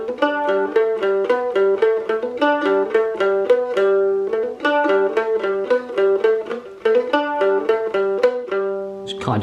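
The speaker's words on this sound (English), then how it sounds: "at the end of the song there's kind of like an outro which is similar to the main riff," Mandolin plays the outro riff of a song, a steady run of quickly picked bright notes repeating a looping phrase, close and alone, ending with a final strum.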